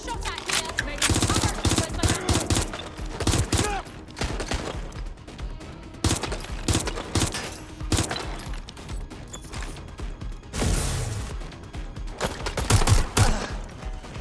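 Heavy, chaotic gunfire in Watch Dogs Legion, with loud overlapping volleys and machine-gun bursts crackling in irregular clusters, broken by brief lulls and a rushing blast near the end.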